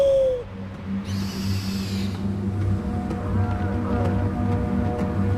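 Owl in the Far Cry Primal game gives a hoot, then steady low game ambience hums with a brief hissy burst and soft tonal layers, the call fairly close and clear over the background.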